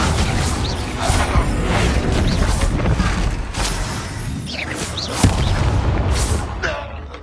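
Spell blasts from Bombarda and Confringo in the Hogwarts Legacy game: dense, continuous booming explosions and crackling bursts, loud and close, with one sharper bang near the end and voices speaking amid the chaos.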